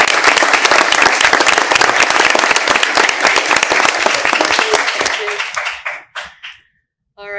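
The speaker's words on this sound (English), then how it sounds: "Round of applause to you," A school board meeting audience claps loudly in a dense, sustained round of applause that thins into scattered final claps and fades to silence.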